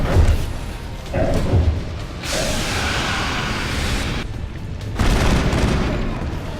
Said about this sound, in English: Switch out to the assault rifle here.